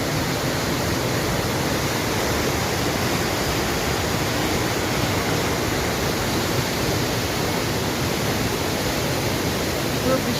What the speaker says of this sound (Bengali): খুব তেজিতে খুব জোরে জোরে ঝর্ণার জল বইছে।